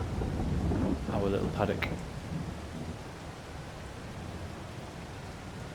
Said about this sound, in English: It's raining. We can't do much else anyway.